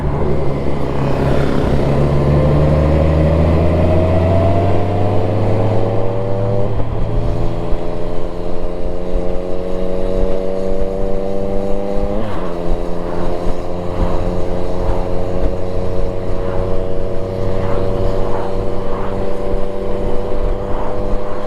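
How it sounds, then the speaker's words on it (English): A 2024 Honda Goldwing motorcycle riding along, its smooth engine droning steadily with rising and falling pitch as it shifts through gears, loud and close with constant wind rush and no talk. "My first ride on the Honda Goldwing, the 2024 model."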